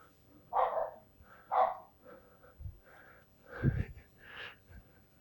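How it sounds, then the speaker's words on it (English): A local dog barking outdoors at a distance, a few faint separate barks spread unevenly, with soft background noise between them and no talking. "Local dog"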